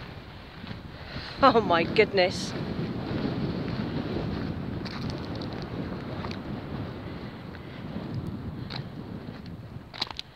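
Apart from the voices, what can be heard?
strong wind on microphone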